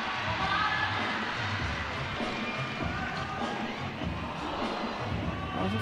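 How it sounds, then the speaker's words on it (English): A crowd murmurs and cheers in reaction to an attempt during a timed competition, a broad, fairly distant roar of voices sustained throughout without any single standout shout. "You can tell from the reaction of the crowd, and hope you can hear them through our mics, how good an attempt has been."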